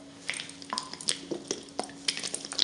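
A thick clay mud hair wash is stirred in a bowl, giving soft, wet squelching and dripping sounds in quick irregular bursts at close range, with no voices.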